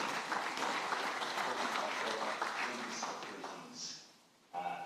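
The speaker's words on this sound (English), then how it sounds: "let's give a big round of applause for Professor Sir Ashley Bloomfield" Audience applause at a Pacific and global health research centre launch, greeting Professor Sir Ashley Bloomfield; steady dense clapping for about four seconds, fading near the end before a brief burst of other sound.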